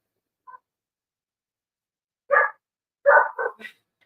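A dog gives a tiny yip, then after a pause a single bark, followed by a quick run of two or three sharp barks, all close and clear against silence.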